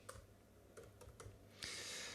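Code being typed on a computer keyboard: a few scattered clicks of keystrokes, then a short denser burst, fairly quiet and close with no talking.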